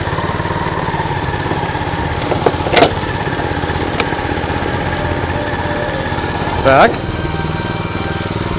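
Honda HS 622 snow blower engine running at a steady, rumbling throttle up close, its even mechanical chug continuing throughout while someone speaks briefly over it.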